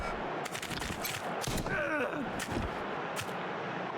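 Gunfire bursts in combat within Wasteland 3, a post-apocalyptic tactical game: several sharp shots and short volleys over a dense, steady background of battle noise, with a whistling ricochet-like sweep in the middle.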